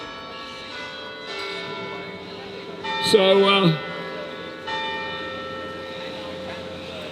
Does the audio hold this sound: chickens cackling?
no